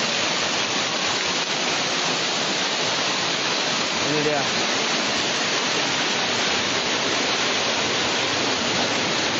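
Steady broadband roar of a waterfall reached after a short walk from the road, loud and continuous throughout, with a brief spoken remark partway through.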